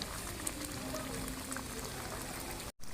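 Thai winter melon soup with pork simmers in a pot, a soft, steady bubbling and hissing boil heard faintly and continuously without talk.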